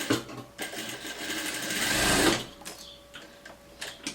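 A sewing machine runs a steady stitching burst along a trouser seam, sewing for about two seconds, then slowing and stopping, close and clear with no talk.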